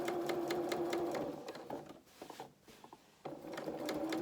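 A domestic sewing machine stitches a fabric seam in fast, close, rhythmic bursts, pausing for a couple of seconds before resuming its steady whirring run.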